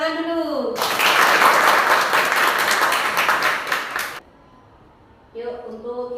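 Students in an Indonesian university classroom break into loud, dense applause lasting about three seconds, with a teacher's voice speaking just before and after.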